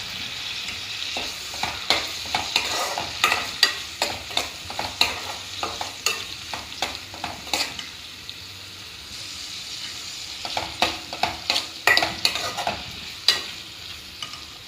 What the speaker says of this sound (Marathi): आता यात आपण लाल टोमॅटो टाकून घेऊ.